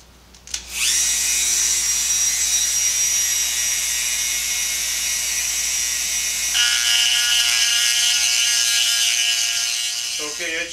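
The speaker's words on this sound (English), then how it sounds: "with this Dremel, and I'm gonna make about 1/8 inch wide groove all the way down" A Dremel rotary tool cuts a groove in the latch cylinder of a Mercedes SLK230 convertible roof, making a loud, steady high-pitched whine that keeps going for several seconds and then spins down.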